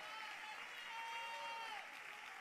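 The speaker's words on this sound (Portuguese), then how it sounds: "Você pode aplaudir mais forte" A church congregation at AD Itapevi applauds steadily, a soft, continuous wash of clapping heard from a distance with a faint sustained musical tone underneath.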